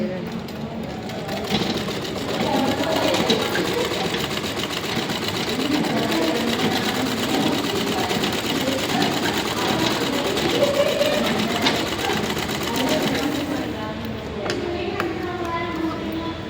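A sewing machine stitches a blouse in a steady, continuous whir that runs nearly throughout, close and fairly loud, with a voice talking intermittently over it.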